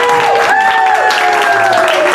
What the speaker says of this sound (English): we want to give a big round of applause to George Mendoza, whose restaurant this is,